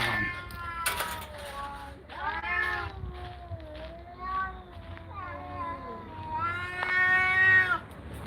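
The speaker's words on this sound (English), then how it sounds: "what cat fight is this?" Cats fighting in a loud caterwauling exchange, with long wavering yowls and rising, falling meows that overlap and swell toward the end, heard close and continuous with no talk.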